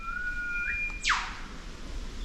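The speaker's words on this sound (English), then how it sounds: "I wonder if this eastern whip bird is the bird that makes the sound like what we heard at Port Macquarie" Eastern whipbird in Australian forest: a long thin whistled note rising in pitch, then a sharp descending whip-crack, moderately near against quiet woodland ambience.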